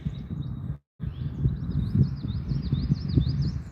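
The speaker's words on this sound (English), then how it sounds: "and it's so nice to listen to the birds." Birds sing near an old railway bridge in a natural outdoor spot, with repeated high chirping phrases running over a low rumbling background of wind and handling noise after a brief dropout.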